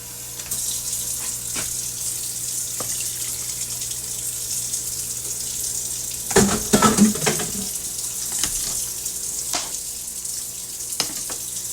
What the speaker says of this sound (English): We're going to add just a little more water in it because that's going to thicken up